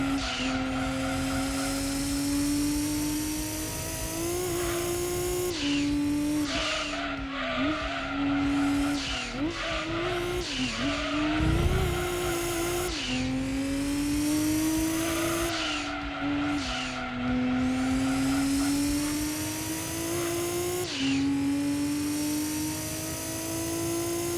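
A tuned turbo race car in Gran Turismo 2 drones steadily at high revs through a lap, its engine pitch rising and dipping with gear changes and throttle lifts, with brief tyre squeals through corners and no talking.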